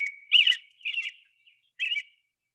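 Bird song played back by a bird identification game: three bright chirping phrases, each about a third of a second long, separated by short silences and heard clearly on their own with no talk.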